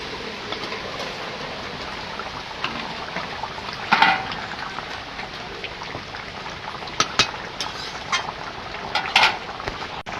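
Fried potatoes go into simmering chicken kosha meat with hot water in a pan, giving a steady bubbling, sizzling hiss broken by a few soft clunks and splashes as the potato pieces drop in. No one speaks.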